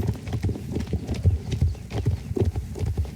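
Horse hooves clip-clop in the online game Star Stable Online, a steady rhythmic run of soft, close hoofbeats at a walking pace with no voices over them.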